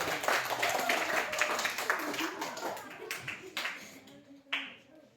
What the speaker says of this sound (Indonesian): Berikan tepuk tangan buat teman kita yang satu.